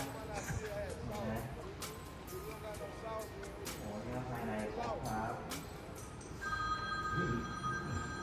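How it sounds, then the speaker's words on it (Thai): A telephone rings with a bright, repeated electronic trill near the end, heard over steady talk and background chatter indoors. "โทรศัพท์ครับ"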